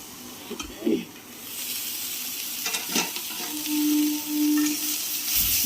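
Shrimp shells frying in a pan give a steady, fairly faint sizzle with a few clinks from stirring and a brief hum, with no talking.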